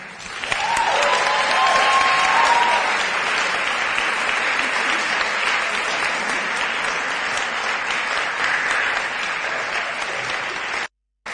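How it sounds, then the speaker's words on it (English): A crowd applauds at the StreetMic Baton Awards 2023 livestream, loud sustained clapping that holds steady for about eleven seconds before stopping abruptly. "Another round of applause, please, for Savia Rock."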